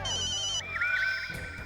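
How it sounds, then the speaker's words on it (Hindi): A mobile phone ringtone goes off in the middle of a comedy series rehearsal, playing a loud, close electronic melody of warbling tones that changes pattern partway through, with no talking over it. "रिहर्सल के बीच में तुम्हारा फोन बज रहा है?"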